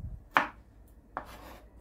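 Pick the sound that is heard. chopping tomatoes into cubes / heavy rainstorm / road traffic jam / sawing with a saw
chopping tomatoes into cubes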